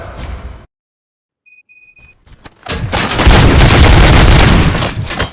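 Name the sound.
gunshots in video game RoboCop Rogue City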